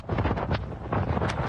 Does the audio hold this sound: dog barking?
no